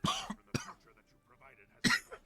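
A few short, close coughs, the first two in quick succession and a louder one after a brief pause, with faint murmuring between them.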